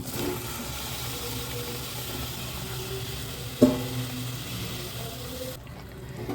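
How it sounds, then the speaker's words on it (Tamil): Broccoli sizzles and sautés in oil with masala for a kurma, a steady faint frying hiss with a single sharp clink from the utensil midway. "அப்படியே வதக்கி விடுங்க. மசாலாவோட சேர்கிற மாதிரி அப்படியே வதக்கி விடுங்க."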